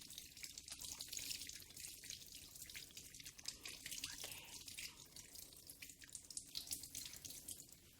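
Water runs steadily from a tap during handwashing before cooking an Ethiopian potato dish, a faint, continuous hiss with light splashing and no talk.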